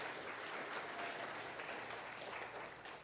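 Audience applause at an awards ceremony, a steady wash of many hands clapping that holds evenly throughout, heard from somewhat far back and fairly soft.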